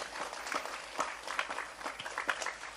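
A modest crowd at a religious study gathering after tarawih prayers claps loosely and unevenly. The claps are fairly quiet and scattered, rising and falling in small bursts.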